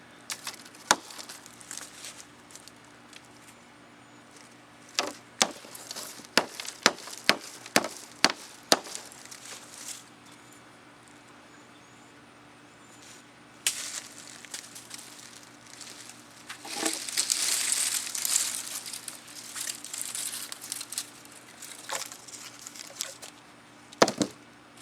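Brush wood being chopped and processed with a Schrade SCHF17 fixed-blade knife outdoors: a run of sharp, irregular chopping knocks early on, then softer rustling and crackling of branches, fairly close, with no talk.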